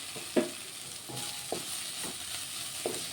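Food sizzles and fries on a stove while a utensil stirs it, making a steady soft hiss broken by a few clinks and scrapes, with nobody talking.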